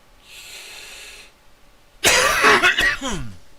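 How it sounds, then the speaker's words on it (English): Someone with allergies gives a couple of rough, harsh coughs with throat clearing, close to the microphone, after a faint breathy sound, during a gaming session. "Sorry for the coughing."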